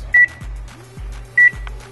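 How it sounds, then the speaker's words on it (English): A kitchen timer set for 20 minutes while cooking beef stew gives two short, loud electronic beeps a little over a second apart, close by, with faint button clicks between them and no talking. "So let's set the timer for 20 minutes."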